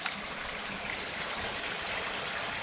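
Water flowing steadily along an urban creek near a tunnel, a continuous broad rushing and trickling wash with no pauses and no voices.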